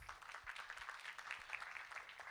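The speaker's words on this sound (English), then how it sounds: "please give a warm round of applause" An audience applauds to welcome a CEO speaker at a tech meeting, a faint, thin patter of clapping that holds steady for a couple of seconds, quiet and distant as if heard over a call.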